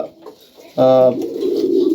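A pigeon in a highflyer loft gives one clear, loud coo, a low tonal call that drops into a softer, throaty murmur, with faint quieter sounds before it.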